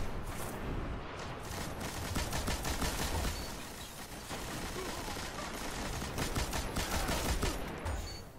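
Rapid gunfire in the video game Destiny during an Iron Banner multiplayer match, continuous bursts of automatic shots with dense crackling rattles throughout, fairly quiet in the mix.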